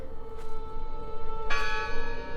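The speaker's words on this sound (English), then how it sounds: "it must be her ringing the bell" A church bell tolls in the Draugen video game, loud and resonant with two clear strikes whose long ringing tones overlap and sustain.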